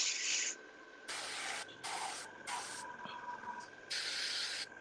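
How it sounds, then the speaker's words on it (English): An airbrush sprays paint at low air pressure for light highlights, giving about five short, close hissing bursts of one to two seconds each, separated by quiet gaps with a faint steady hum underneath. "I'm at this point spraying barely any paint, just trying to touch those corners to add lighter and lighter."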